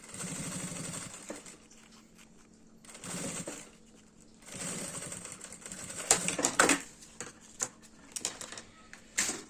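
A sewing machine runs in short bursts while stitching a fabric box pouch, with small clicks and handling noises between the stitching runs.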